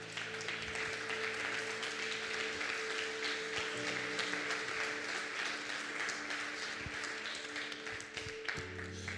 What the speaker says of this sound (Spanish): ¿Te parece si te pones de pie y le damos un fuerte aplauso a Dios hoy?